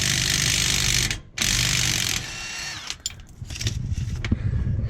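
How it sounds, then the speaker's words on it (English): A power tool undoing the rear leaf spring shackle bolts on a Fiat Ducato motorhome: a loud, close, sustained whirring drive that cuts out briefly, resumes, then stops, followed by metallic clanks and rattling. "we've got to get these bolts undone next"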